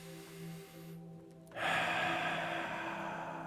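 One deep breath drawn in during a calm guided meditation, a soft airy inhale that begins midway and holds faintly under a quiet background hum.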